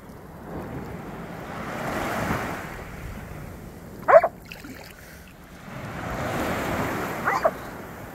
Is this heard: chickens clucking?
no